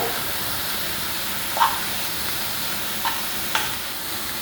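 Chicken cutlet filling sautés in a pan with salt and ginger-garlic paste, a steady close sizzle broken by a few light scrapes from a stirring spoon.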